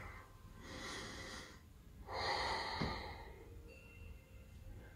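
Slow, deep breathing during a hatha yoga flow, heard close up as two long, airy breaths, a drawn inhale followed by a fuller exhale, over a quiet room hum with no talking.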